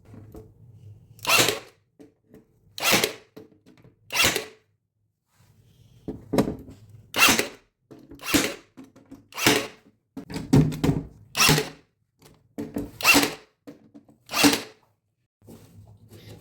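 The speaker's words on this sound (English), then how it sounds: "we're gonna use a nail gun to hold this plywood board in place" A nail gun drives fasteners into a plywood workbench board: about a dozen sharp, loud snaps come close by in irregular bursts, with short quiet gaps between them.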